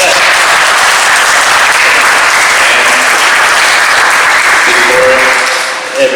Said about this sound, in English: thank you and give a round of applause